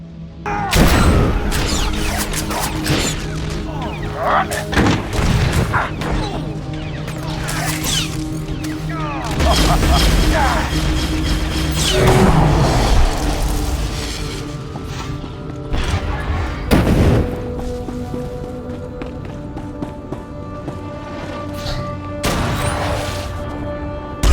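Gunfire and explosions in the Star Wars: The Old Republic video game, dense repeated blasts and crashes over about twenty seconds, mixed with loud game music and effects.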